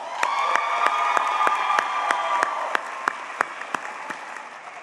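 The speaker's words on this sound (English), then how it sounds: "One more round of applause for Catherine Hood." Steady applause from a crowd, sharp claps standing out over the dense clapping, gradually thinning toward the end.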